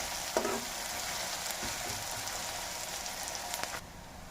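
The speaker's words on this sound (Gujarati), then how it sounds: "આપણે આ ડુંગળી, વઘાર બરાબર સારો કેવી રીતે થાય તમે જોવો" Onions fry in hot tempering oil for a tomato undhiyu dish, making a continuous close sizzle with occasional scraping stirs and a few sharper pops before the sound drops slightly at the end.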